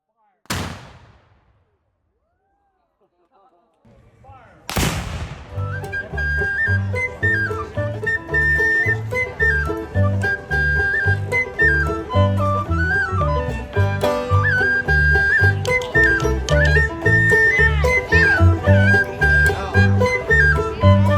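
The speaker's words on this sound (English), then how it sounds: "they will hook up the lanyard in order to fire the piece." A historical cannon at a living-history event, fired with a friction primer and lanyard, gives one sharp boom near the start that rings out and fades, followed by a short lull and then loud music for the rest.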